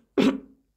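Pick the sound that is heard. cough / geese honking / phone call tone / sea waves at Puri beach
cough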